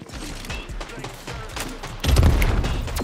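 Rapid bursts of video game gunfire from a shooter match, a steady automatic rattle that grows louder and heavier in the last second, with no voices over it.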